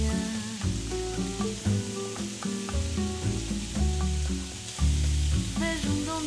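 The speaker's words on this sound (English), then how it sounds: "Now I'm gonna add some carrots and potatoes that I've cut up into little cubes." Cubed carrots and potatoes sizzle in a pot on a stove, a soft steady fry under a backing music track.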